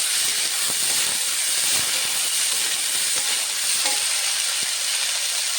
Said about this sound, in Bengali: ফলটা ভাজা মতন টাইম লাগে